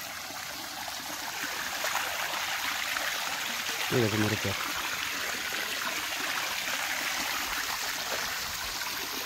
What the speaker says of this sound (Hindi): यहाँ से पानी गिर रही आ रही है।